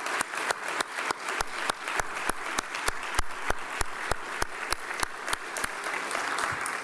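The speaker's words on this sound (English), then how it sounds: "give a final round of applause for this wonderful session" Conference audience applauding after a session on the Mediterranean diet, a dense crowd clapping joined by one close, sharp, evenly spaced clapper beating a steady rhythm throughout.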